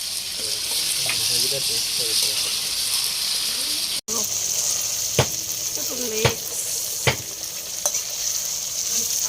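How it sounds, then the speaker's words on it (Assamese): Chillies frying in hot oil, with a continuous close sizzle broken by several sharp clacks of a utensil stirring against the pan; a voice is heard briefly near the start. "জলকীয়া ভাজিলে"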